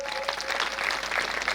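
Audience clapping at a devotional Akhand Harinam gathering, a dense, steady burst of many hands applauding at moderate volume, with a faint tonal hum from the sound system underneath.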